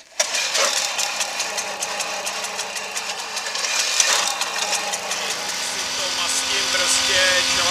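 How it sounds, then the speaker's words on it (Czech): A Babetta moped's small engine runs with a rapid, rattling putter throughout, close and fairly loud, rising slightly in pitch midway, while someone occasionally talks over it. "Moje první životní jízda s babetou."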